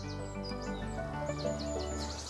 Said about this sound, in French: On entend les petits oiseaux